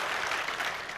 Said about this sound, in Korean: 박수를 치려면 확실하게